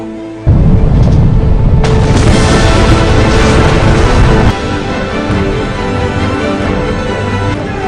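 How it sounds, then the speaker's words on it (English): Ships blowing up in the 2014 naval battle film The Admiral: a sudden heavy blast erupts into a sustained loud roar of explosions and crackling debris, then settles into a lower rumble. "cannons are placed under the ship and 4 ships are exploded"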